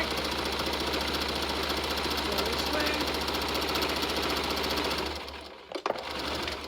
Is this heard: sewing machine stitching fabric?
yes